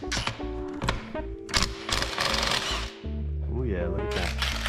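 A wrench or power tool working loose the flywheel nut on a Polaris Sportsman 500 ATV engine, with loud bursts of ratcheting, grinding and impact noise, close up and continuous throughout.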